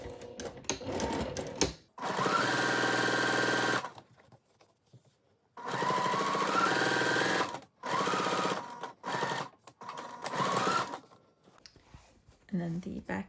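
A sewing machine stitches the main fabric seams of reversible Lilly shorts, front pieces along the small curve, in three long steady runs broken by short pauses and a few quick bursts, with faint talk in the gaps.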